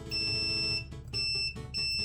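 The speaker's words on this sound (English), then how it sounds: "that beep means that they are connected, so that's ground" A multimeter's continuity tester beeps three times in quick succession as its probes touch ground during a SteamOS installation repair, each beep a steady high tone heard close and alone.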